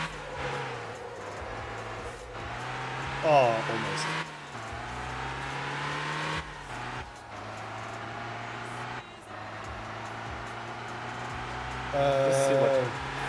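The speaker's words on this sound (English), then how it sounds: "I'm gonna try and score a sick drift in my little K car" A small kei car's engine revs and strains through a drift in the driving game Motortown, droning steadily with brief surges of revving, while players talk over it.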